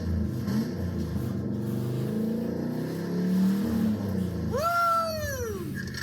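A Ford Mustang engine runs with open headers on a dyno, a loud, continuous rumble that ends in a sharp rev climbing and then dropping away.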